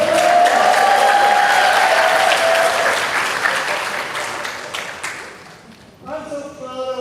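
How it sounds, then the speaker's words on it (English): Loud applause from a university faculty gathering fills the room, gradually thinning and fading before a speaker's voice comes in near the end. "I think let's get louder applause."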